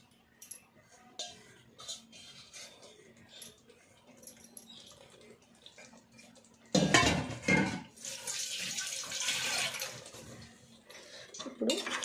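A spoon scrapes the last of the yogurt from a bowl into mutton curry in a pressure cooker. Soft clinks come first, then a louder stretch of metal scraping and stirring against the bowl and pot, close to the mic.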